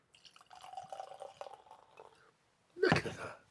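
Sparkling sake pours from the bottle into a glass, a short fizzing, splashing gush near the end, after a stretch of faint background clatter and quiet sounds.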